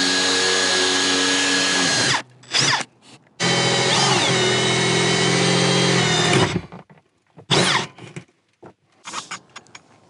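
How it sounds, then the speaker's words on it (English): A power drill bores a large hole through an RV roof to fit an antenna mount, whining loud and steady in long close runs, then stopping and restarting in a few short bursts, with no voices. "come out and finish drilling the larger hole"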